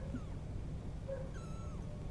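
A cat meows faintly in the background during an online gaming session, a couple of brief rising calls over steady low room noise and hum.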